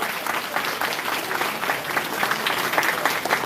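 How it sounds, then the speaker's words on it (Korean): Warm applause from party members at a Korean regional party convention, honouring standing advisers; a steady, dense patter of many hands, moderately loud and close, with no voices over it. "우리 고문님들에게 뜨거운 박수 한번 부탁드리겠습니다"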